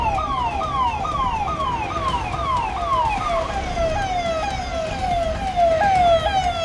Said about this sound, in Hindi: यहाँ पर एक के बाद एक कई एम्बुलेंस पहुँच रही हैं।